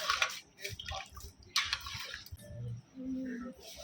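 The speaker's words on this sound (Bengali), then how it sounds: "এবারে গেলাসে ঢেলে খাওয়ার পালা" Yogurt sherbet being poured into a glass: a soft liquid splash and trickle with gurgling drips, quiet and close, running for a few seconds with brief gaps and no talk.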